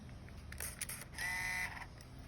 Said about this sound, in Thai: กดชัตเตอร์ลงครึ่งหนึ่งก่อนให้ กล้องจับโฟกัส